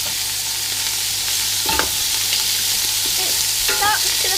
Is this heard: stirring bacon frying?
yes